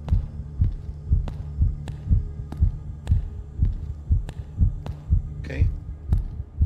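A steady, heavy heartbeat in a horror video game thumps in a regular double rhythm over a low hum, with a brief spoken word partway through.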